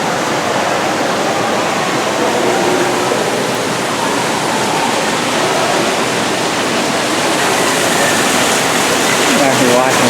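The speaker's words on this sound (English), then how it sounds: "I'm actually watching a waterfall." A waterfall at Reptile Gardens pours in a loud, constant rush of water that fills the whole clip, close by and unbroken.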